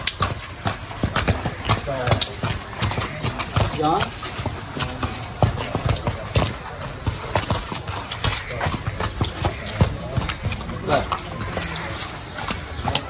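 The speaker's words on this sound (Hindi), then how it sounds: "घोड़ा शहजादा" Hooves of a horse being ridden in Abbottabad clip-clop in a steady rhythm throughout, close and fairly loud, while people talk over them.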